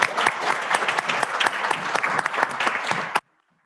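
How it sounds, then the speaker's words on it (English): People at a city council meeting give a round of applause, lively overlapping claps for about three seconds that stop abruptly into silence. "How about a round of applause?"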